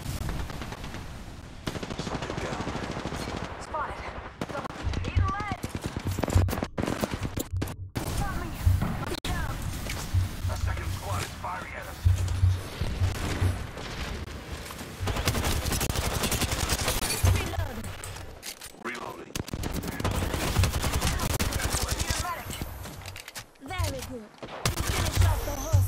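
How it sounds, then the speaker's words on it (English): Sustained automatic gunfire in Apex Legends crackles through a tense firefight, loud and nearly continuous with short gaps, while a voice talks over the shooting. "I'm getting shot at"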